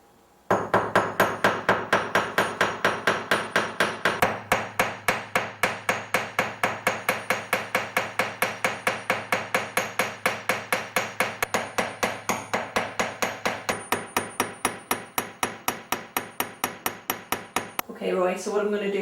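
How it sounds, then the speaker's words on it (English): Rapid, steady hammer blows ring on gold, dozens of sharp metallic strikes in an even rhythm, close and loud, stopping near the end. "This is the stage before we start to flatten and hammer it out."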